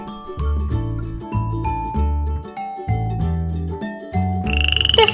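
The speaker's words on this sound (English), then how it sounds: "The frogs have come to the watering hole." Frogs croaking at a watering hole in loud, regular bursts of deep, resonant calls, several in a row with short pauses between them, ending with a higher, rapid trill.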